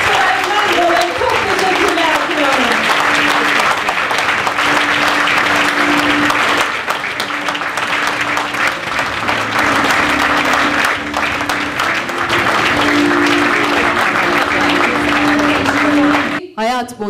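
Audience at an awards ceremony in England gives long, loud applause, a thick continuous roar of clapping, with a voice and a sustained musical tone running beneath it before a brief break near the end.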